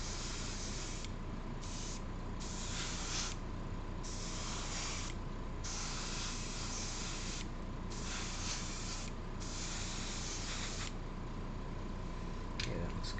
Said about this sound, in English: I'm going to gloss coat all this too after it's done